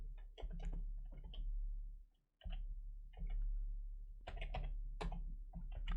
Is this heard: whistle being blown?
no